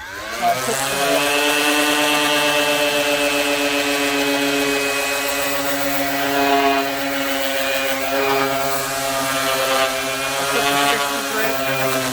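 A steady, loud mechanical whine with a strong hum, a power sander sanding an epoxy repair on a board, running continuously without pause.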